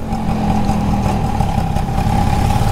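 A 1985 Bajaj Chetak scooter engine runs steadily nearby, a constant mid-pitched idling drone with a low rumble and no voices.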